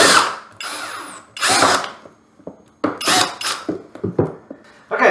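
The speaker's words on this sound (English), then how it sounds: "you can go ahead and start putting those little screws in." A power drill drives small screws into a Pac-Man waterfall arcade control deck in several loud, close whirring bursts of one to two seconds, separated by short quiet gaps.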